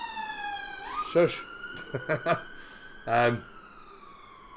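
Ambulance siren passes outside a convention venue, a steady wailing tone heard through the room while a person talks over it.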